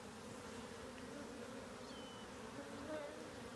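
Honey bees hum in a low, steady drone throughout a hive inspection, a faint continuous buzz with a few individual bees passing nearby.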